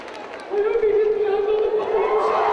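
Crowd at an indoor international horse show jumping event, a steady murmur and swell of reaction from a large audience filling the arena, with a tonal sound running underneath.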